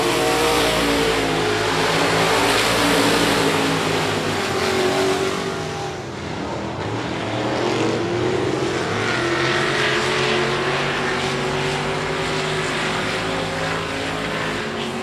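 Race cars roaring around I-37 Speedway during a heat race, a loud continuous engine drone with shifting pitch as the pack passes close by, sustained for the whole stretch.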